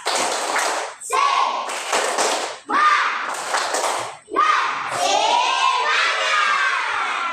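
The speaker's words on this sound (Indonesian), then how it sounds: "Ayo yel, tepuk semangat dulu" Schoolchildren in a classroom do a rhythmic spirit-clap cheer, with bursts of clapping and thumps in patterned groups while their voices shout along loudly and up close.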